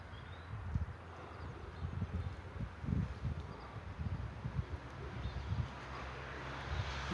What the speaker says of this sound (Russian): Ветер, конечно, сильноватый.